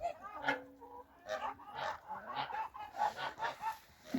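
Working farmyard geese, ganders among them, honk repeatedly in close, irregular calls during a cold village winter, fairly near and alone without talk.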